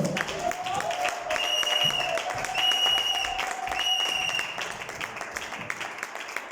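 A church congregation claps to welcome the preacher as he comes up, a steady dense applause with a sustained musical tone and bright chimes ringing over it, loud and continuous before thinning toward the end.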